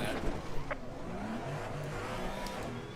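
A GT4 race car engine in a racing game at Brands Hatch, a close droning whine that revs and shifts pitch, with brief sharp bursts early on.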